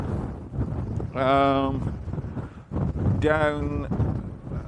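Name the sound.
wind blowing on a fell at sunset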